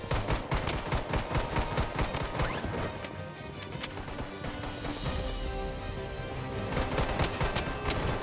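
Gunfire in the shooter game Bloodstrike: dense rapid automatic fire and bursts of shots, loud and close, with crashing impacts and a short lull partway through.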